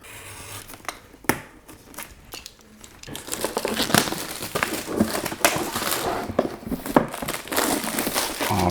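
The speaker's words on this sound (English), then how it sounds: "some cellophane wrapper. Get that off to the side." Cellophane wrapper crinkling and tearing as it is pulled off a Samsung Galaxy Book2 Pro 360 laptop box, a busy close rustle that starts sparse and grows dense and continuous.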